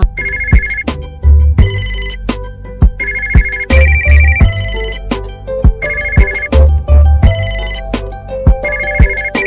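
A phone ringtone plays loud and close, a repeating electronic melody with regular beats that cycles several times without a break.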